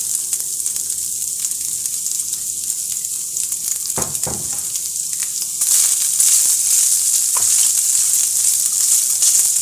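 Meat frying in a pan just after two tablespoons of vegetable oil are added, giving a steady close sizzle that swells louder partway through, with a few scraping stirs in the middle.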